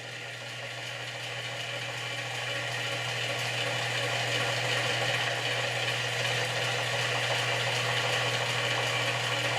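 An electric motor runs with no power filter plugged in, giving a steady mechanical hum with a strong low drone that swells slightly in the first seconds, then holds constant and close with no talking.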